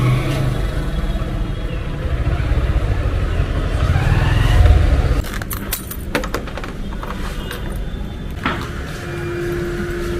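A motorcycle idles steadily up close while being parked outside an office, then its engine cuts off, leaving scattered clicks, a key jangle and faint mechanical ticks.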